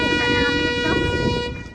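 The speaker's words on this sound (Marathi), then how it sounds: "ती बोट आहे ना ती आम्हाला हॉर्न देते" A loud, sustained boat horn blast sounds nearby at Janjira Fort, Murud, holding a steady tone for nearly two seconds before starting to fade.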